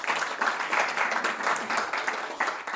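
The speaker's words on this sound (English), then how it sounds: "Let's clap for both of them." An audience at a spiritual talk claps together, a dense, steady round of applause at moderate loudness.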